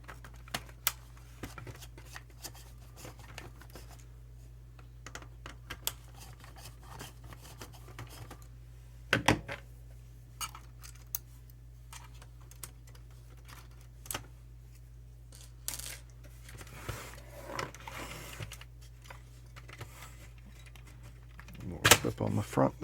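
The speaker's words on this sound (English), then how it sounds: "So what we'll do, pop the knob off the front, and there's a couple screws in there." Front knob and screws being removed from an Onkyo R-805X receiver with a no-power clicking fault: sparse, faint clicks, taps and scrapes of handling against a low steady hum, louder clattering near the end.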